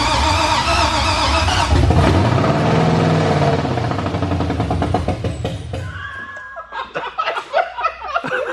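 An LS V8 engine swapped into a Toyota Cressida fires for the first time with open headers, a loud rough rumble that rises and then settles, followed by excited voices and laughter over the fading idle.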